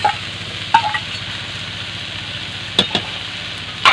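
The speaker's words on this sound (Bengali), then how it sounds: "আলুটা দিয়ে ভালো করে ভেজে নেবেন।" Potatoes sizzle steadily in a hot pan for a cabbage and roti dish, a constant crackling hiss broken by a few sharp clinks of a utensil stirring against the pan.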